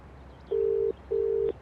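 Two steady ringback tones of a phone call, each lasting under half a second with a short pause between, heard over faint background hiss.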